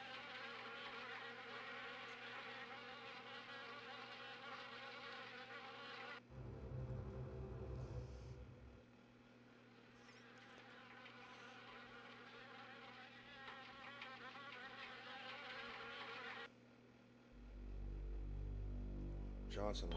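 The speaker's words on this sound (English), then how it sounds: "Old car. The perfect nesting ground for wasps." Wasps buzzing inside an old car in the horror video game Harvester, a steady droning insect hum that runs on and off beneath ambient game music and a spoken voice.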